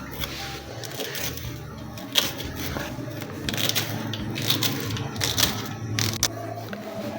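Knife finely chopping two small green garlic plants on a board, a busy run of irregular light tapping and crunching cuts with some clattering, moderately close.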